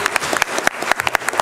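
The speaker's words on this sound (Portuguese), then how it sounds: "Uma salva de palmas para quem já tem 50." Sparse applause at a public hearing on child sexual abuse and exploitation, a handful of distinct, uneven claps standing out sharply over a quiet room rather than a full ovation.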